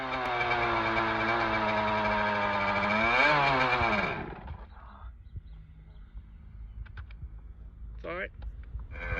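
Dirt bike engine revs hard for about four seconds, pitch climbing and dipping before cutting out, then idles low with scattered clicks and a brief second rev burst near the end; a voice speaks faintly.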